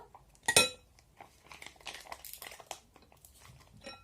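A spoon clinks sharply against a container, followed by soft wet scraping and scooping of mayonnaise, close and quiet, with no talking.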